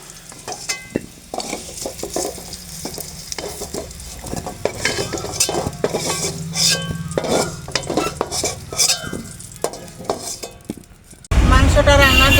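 A metal spoon stirs and scrapes fried potatoes in a hot pan of oil, with rhythmic clinks and scrapes over a steady sizzle while the cook lifts the potatoes out; a louder burst of frying hiss comes at the end.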